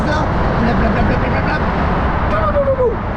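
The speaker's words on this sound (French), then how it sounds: "je vous laisse sur ces petites images du trafic parisien le matin" Morning traffic in Paris, a steady roar of passing cars and vehicles close by, with a brief higher engine whine near the end.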